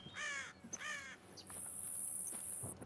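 Two harsh crow-imitation caws made by a hunter close together, followed by a steady high insect-like hum, outdoors in the Yukon and fairly faint.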